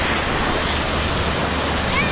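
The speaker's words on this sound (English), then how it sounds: "Just chilling at the beach, getting the waves." Ocean surf breaking on the beach at Myrtle Beach, a steady broadband wash of rolling waves mixed with wind rumble, close and fairly loud throughout.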